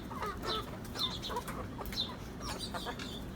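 Small backyard hens cluck in short, repeated calls close by, several birds overlapping in a busy, chattering flock with a low background murmur and no speech.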